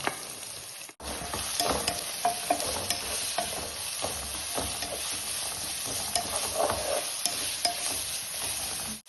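Chopped onions frying in hot oil, a dense continuous crackling sizzle with frequent small pops and stirring scrapes, close and steady after a brief gap near the start, with no speech.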